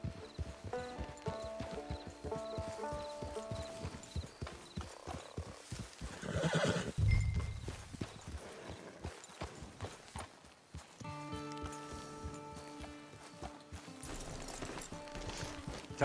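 A horse whinnies loudly with its hooves clip-clopping in Red Dead Redemption 2, set against a layered game soundtrack with music and ambient tones throughout.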